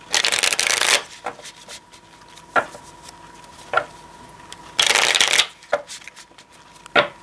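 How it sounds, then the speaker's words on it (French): Tarot cards are shuffled close up in two loud riffling bursts, with soft taps and knocks of the deck being squared and handled between them. "il faut que je les brasse un peu"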